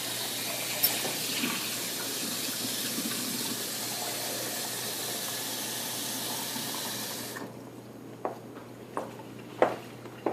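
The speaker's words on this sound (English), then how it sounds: "I'm going to go to the sink again, rinse out my" Tap water runs steadily into a liquid measuring cup at a sink for several seconds, then stops, followed by a few light clinks and drips.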